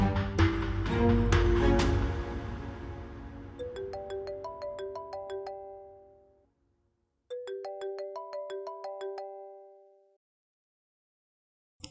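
Mobile phone ringtone playing a bright melodic chime pattern loud and close, after a brief burst of background music, then repeating once more after a short pause before cutting off.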